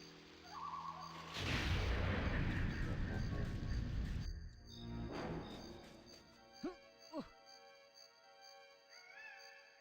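Rockets fired in an N64 video game, a loud rushing blast that sustains for a few seconds, then a second softer burst, followed by short electronic blips and tones.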